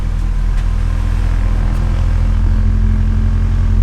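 A Honda B series car engine idles while warming up, a loud, close, steady throbbing with an even pulse and no voices.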